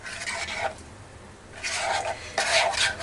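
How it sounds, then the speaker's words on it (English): A spoon or spatula scrapes across the bottom of a pan while hoecakes cook, in two rasping bouts with a quiet pause between them, close and fairly loud with faint sizzle underneath. "Make sure to scrape your bottom good."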